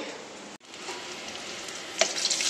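Pointed gourd (potol) slices sizzling in hot oil in a home kitchen, a steady close crackle that cuts out briefly, then resumes with sharper spitting pops and a stir near the end.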